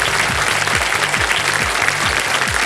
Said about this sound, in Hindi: पहले ही ताली बज गई इधर से।